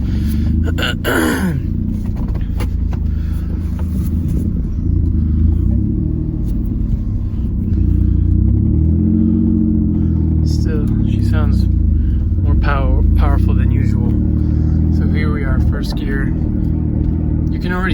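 A 2003 Mitsubishi Eclipse GTS with a manual gearbox drives along, its engine rumbling steadily and loud from inside the cabin, with a lurch as the throttle is released; a person talks over the drone.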